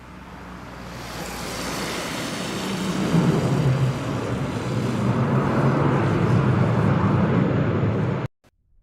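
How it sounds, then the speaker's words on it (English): A Dash 8-400 turboprop touches down at Lajes in the Azores in strong gusting crosswind on a short windswept runway, a broad roaring rush of engine and wind noise that builds steadily, stays loud, then cuts off abruptly. "This Dash 8-400 touches down at Lajes, battling strong gusts on a short windswept runway in the Azores."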